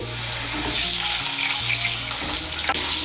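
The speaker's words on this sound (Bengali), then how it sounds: "এই তেলের মধ্যে আলুগুলো ভেজে নেব।" Long, thin-cut potato strips fry steadily in hot oil, a dense, loud, continuous sizzle with faint low hum underneath and no voices.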